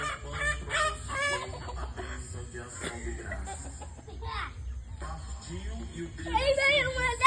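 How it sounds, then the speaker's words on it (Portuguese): Chickens cluck and squawk nearby at an Easter-week outing, with a child and an adult talking over the birds throughout. "Aí veio uma galinha"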